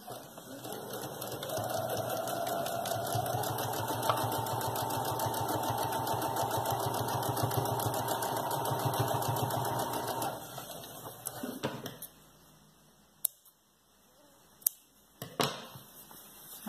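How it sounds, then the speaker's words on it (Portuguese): A sewing machine runs a steady, continuous hum while stitching a seam along the edge of fabric for a high-waisted diaper cover. It stops after about ten seconds, followed by faint handling clicks. "E aí eu vou passar uma costura bem na beiradinha pra rebater aqui"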